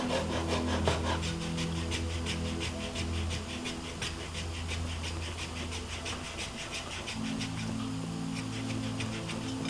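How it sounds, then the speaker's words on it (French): A hand saw cutting through wood in rapid, regular rasping strokes, close up, with a low engine-like hum running underneath. "c'est vrai qu'une scie comme ça, c'est très pratique."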